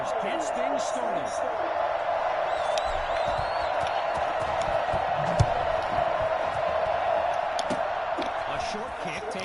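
A stadium crowd in the Madden NFL 21 video game roars steadily and loudly throughout, a continuous cheering wash with occasional whoops and a brief thud near the middle.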